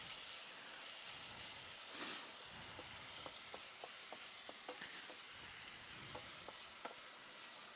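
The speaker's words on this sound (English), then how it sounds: "Okay, it's frying a lot here." Onions fry in a pan with a steady, moderate sizzle and hiss, punctuated by light clicks from stirring.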